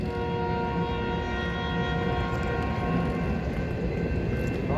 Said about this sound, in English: It's an empty train.